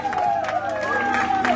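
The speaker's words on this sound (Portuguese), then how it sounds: "Pode bater palmas aí, pessoal." Applause and cheering from guests at a church gathering, dense clapping heard throughout with voices and a whistle-like tone over it.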